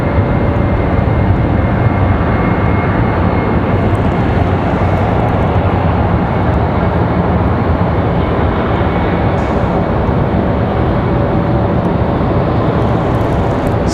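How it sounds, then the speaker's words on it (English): An Embraer E190 jet departs Raleigh-Durham International Airport, its engines producing a loud, steady broadband roar that holds unbroken throughout without fading. "So the E190 off to Louisville,"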